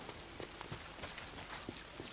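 Steady rain falls in the open-world video game Days Gone, a soft, even patter and wash of drops with scattered light taps, heard at low level with no talking.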